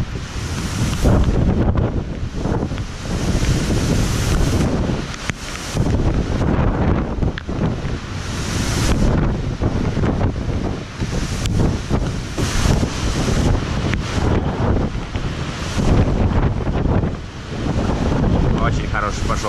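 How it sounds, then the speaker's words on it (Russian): Strong hurricane wind in Florida roars and buffets the microphone without a break, loud and gusting, with a wash like surf underneath. "очень хороший пошел ветер."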